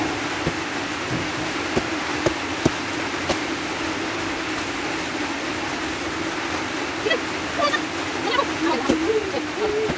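Steady rain pours down with a dense hiss, punctuated by a few sharp drips and taps, with faint voices of children bathing in the rain in the background.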